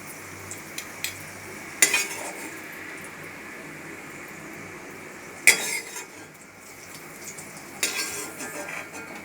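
Roasted coconut is scooped out of a hot pan while oil sizzles softly underneath, with three sharp metal scrapes and clinks of the spoon spread well apart, close by with no talking.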